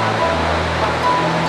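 The Mandakini river rushes at the Sonprayag confluence with the Songanga, a dense, steady roar of flowing water with no breaks.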